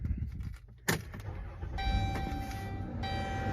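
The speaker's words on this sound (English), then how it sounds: "let's do a startup on the Caravan" A 2019 Dodge Grand Caravan GT minivan starts up: a sharp click, a short crank, then the engine settles into a steady idle hum with faint tonal chimes, heard close with no talking.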